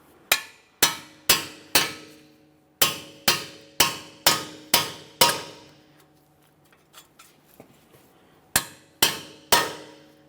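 Hammer blows driving a strike-type pry bar between the ball joint ears of a 2015-2019 Subaru Outback front suspension: sharp metallic clangs in two quick bursts of about five, a pause with faint handling noise, then three more.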